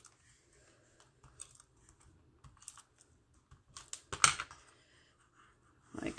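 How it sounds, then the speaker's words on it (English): Tape being torn and pressed onto pink and black paper ribbons, heard as soft close crinkles, clicks and a sharp tearing rip, quiet and sparse, with no talking. "we're going to tape these up"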